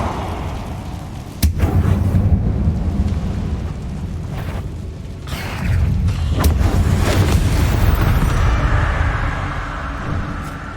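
A fiery blasting spell detonates in the Hogwarts Legacy video game, setting off a sharp crack and then a long, loud rumbling roar of explosions and magic effects that swells and fades without talk.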